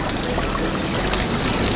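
Water pours steadily from a beach shower, a loud, continuous close splashing rush with no pauses for the whole two seconds.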